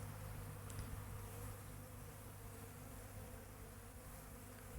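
Steady, faint buzzing of bees at a bee watering station, continuous and unbroken throughout, with a low hum in the background.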